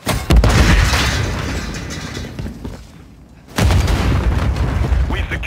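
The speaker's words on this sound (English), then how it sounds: "Stun grenade out!" A stun grenade goes off in the video game Modern Warfare 3: a loud burst opens, then a rumbling stretch fades to a brief near-silence before a second heavy blast, amid battle noise and voices.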